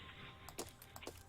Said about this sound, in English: love how loud mechanical keyboards are